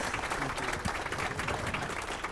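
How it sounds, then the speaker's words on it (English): An audience at a regional economic summit applauds after a presentation, a dense, steady patter of many hands clapping throughout, moderately close, with no clear speech over it. "Another round of applause for Dr. McDonald."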